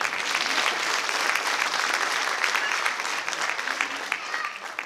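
A gala audience at a folk arts and crafts school anniversary show applauds steadily, dense clapping filling the hall at an even level throughout with no pauses.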